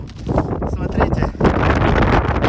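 Strong wind buffets the microphone outdoors on an icy Crimean coast, a loud continuous rumbling roar with gusts throughout, while a person speaks over it.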